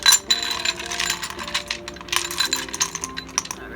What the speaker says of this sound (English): Now let's roll some dice.